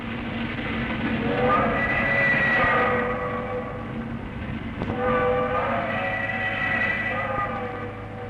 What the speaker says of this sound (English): the Stony Point steam train heads for home again across the meadows of Victoria's Mornington